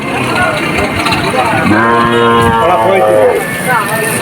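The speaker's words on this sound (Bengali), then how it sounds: "দারুণ একটা গরুর হাট" Cattle moo at a busy cow market, several drawn-out calls rising over a constant crowd murmur, with people talking throughout.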